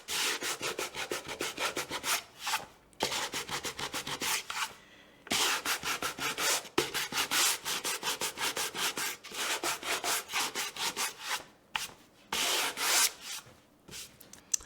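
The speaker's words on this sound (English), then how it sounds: "I'm gonna do a little bit of extra sanding there to just fade that down just a little bit" Sandpaper scrubs over a painted wooden centerpiece box to distress the finish, steady close rasping strokes in quick bursts separated by short pauses, with no talking.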